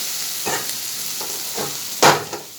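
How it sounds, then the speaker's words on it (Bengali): Garlic, onion and dried chili fry in a pan with a continuous sizzle, punctuated by several short spatula scrapes, the last one louder, as the mixture is stirred and taken off the heat. "আমার রসুন পেঁয়াজ শুকনো মরিচটা ভাজা হয়ে গেছে এবার নামিয়ে নিচ্ছি"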